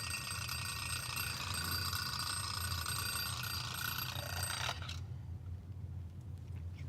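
A small bell on a cheap electronics kit rings in a steady rapid buzzing trill for about five seconds, then cuts off abruptly, leaving faint background noise.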